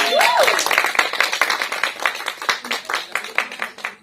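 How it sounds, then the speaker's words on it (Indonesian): A group of people clapping together at an event, brisk irregular claps building over a few seconds with some voices and a whistle-like call mixed in. "mungkin yang belakang tepuk tangan boleh"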